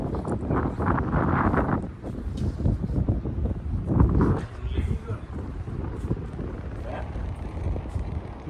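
A cool breeze buffets the microphone at a seaside Meladi Maa temple, with heavy low rumbling gusts that swell and fade, and someone speaks over it.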